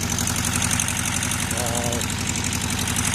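A 1973 VW Karmann Ghia engine, revived in a garage after 28 years, idles steadily with a rough, pulsing mechanical chug and a faint whine briefly rising over it.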